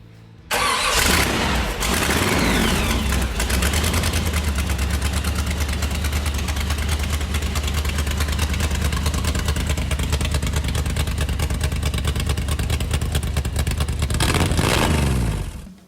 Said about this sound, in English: This is my 1948, 74, etc. AM General mail truck.